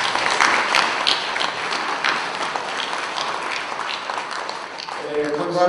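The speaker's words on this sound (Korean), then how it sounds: "우리 성국영 회장님께 큰 박수를 한번 여러분들께 전합니다." An audience at a gathering honoring a company chairman breaks into sustained, lively clapping that fills the room at moderate loudness, with a voice briefly speaking over it near the end.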